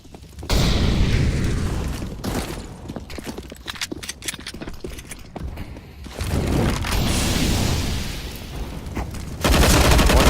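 Counter-Strike gunfire on the map Cache, from upgraded pistols and an SMG: dense bursts of rapid shots and sharp cracks in clusters across about ten seconds, loud and close, with quieter gaps between exchanges.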